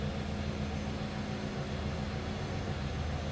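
A 1996 Chevrolet Impala SS with a 5.7 liter LT1 V8 idling, heard from behind the car as a steady low rumble with constant exhaust drone, no talk.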